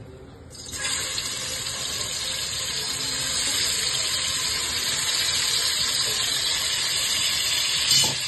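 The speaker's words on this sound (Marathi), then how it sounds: "आता त्यात आपण कोळंबी पहिली फ्राय करून घेऊ" Prawns fry in plenty of hot oil with a loud, steady hiss and crackle that starts abruptly and holds nearly unchanged, no voices over it.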